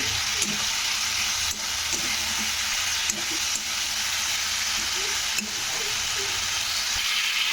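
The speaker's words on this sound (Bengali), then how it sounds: "এবার এই মশলাটার সঙ্গে ডাটা আলুটাকে কষে নিতে হবে" Drumstick stems and potatoes stir-frying with spices in a pan, a steady close sizzle and hiss with periodic scraping stirs of a spatula, no voices.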